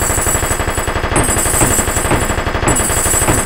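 Rapid automatic gunfire in the video game DayZ Overpoch: loud, continuous bursts of machine-gun shots that rattle steadily, with no speech over them.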